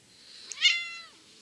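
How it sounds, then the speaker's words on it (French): A single clear cat meow, soft and close, rising then trailing off, with quiet room around it. "Oui, miaou le chat."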